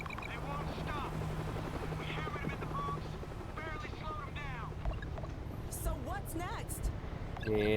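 Steady droning engine of an aircraft taking off during a zombie-shooter game set in New York, a continuous loud rumble under excited talking by players.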